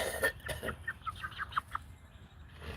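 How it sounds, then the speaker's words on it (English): Chickens on a farm flock of hens with a couple of roosters, clucking in a run of short, bright calls close by, with a low rustling background. "all hens except for two possible roosters"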